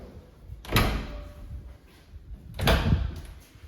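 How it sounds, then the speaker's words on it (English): A double closet door in an apartment suite opens with two distinct rolling, thudding sweeps about two seconds apart, close and moderately loud in a quiet room. "Open up the closet door, so double closet."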